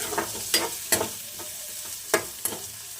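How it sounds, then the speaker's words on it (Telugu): Chopped onions frying with green chillies on low flame in a pan for okra fry sizzle steadily while a spoon stirs them in several distinct scraping strokes, close and moderately loud. "మనం కట్ చేసుకున్న ఉల్లిపాయలు కొంచెం బాగా కలుపుకుందాం."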